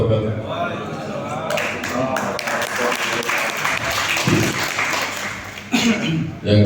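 An audience claps at an Indonesian regional regulation outreach event, a steady wash of applause lasting several seconds while a voice talks over it.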